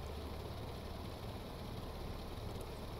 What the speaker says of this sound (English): I'm liking the new engine sounds on this plane.